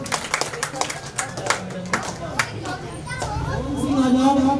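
An audience claps for a student at a Dr. Ambedkar Jayanti celebration, with scattered sharp claps rising into steadier applause while a voice speaks over it and children's chatter mixes in.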